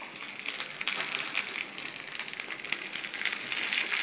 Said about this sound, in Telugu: 2 స్పూన్లు నూనె తీసుకుని అది కాగిన తర్వాత 1/2 స్పూను జీలకర్ర, 1/2 స్పూను ఆవాలు, ఎండుమిరపకాయలు వేసుకొని వేయించుకోవాలి